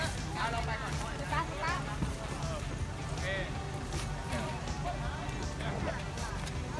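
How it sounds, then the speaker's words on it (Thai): Farm i-taen vehicle engine starting and then running on a ride into the forest, a steady loud rumbling chug with clattery knocking throughout and some voices mixed in. "การสตาร์ทเครื่องยนต์ของเรานะครับ"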